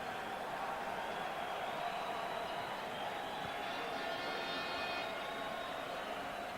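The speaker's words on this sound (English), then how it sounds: "Restless crowd waiting to see Tito Trinidad and William Joppy." A restless boxing arena crowd buzzes in a dense, steady din of murmuring voices and chatter, filling the space evenly throughout.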